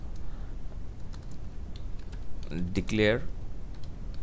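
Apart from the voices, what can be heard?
typing on a computer keyboard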